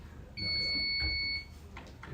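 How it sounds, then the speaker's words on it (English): An electronic quiz-competition buzzer sounds once during a buzzer check at a Latin certamen contest, a steady, shrill, loud tone lasting about a second, alone over faint room noise. "Let's go ahead and do a buzzer check since we haven't done that at all today."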